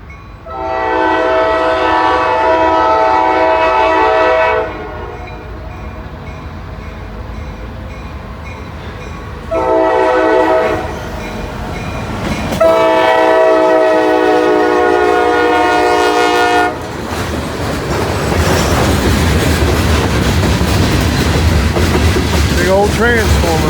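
A loaded freight train of grain cars rumbles past up close with clattering wheels, interrupted by long, loud blasts of a multi-tone horn.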